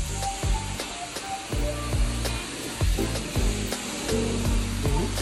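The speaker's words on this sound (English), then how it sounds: "Yeah, see, it's the vacuum." A carpet-cleaning vacuum on a steam-cleaning job runs with a continuous loud whooshing roar, broken by repeated rhythmic surges and clunks as the wand passes over foamy, pet-stained carpet.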